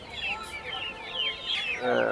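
Chickens of a small breed cluck softly in short rising calls at a poultry market, several birds close by, with a louder squawk near the end.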